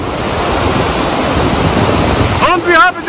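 Broad steady roar of a tall mountain waterfall of about 20 metres in Kyrgyzstan, loud and continuous, with a brief voice breaking in near the end.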